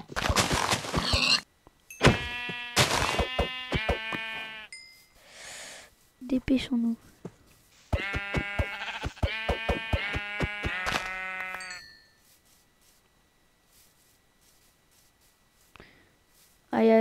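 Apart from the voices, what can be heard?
sheep bleating in a video game (Minecraft)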